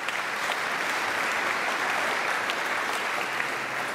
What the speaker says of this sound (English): A round of applause for Jan Jan.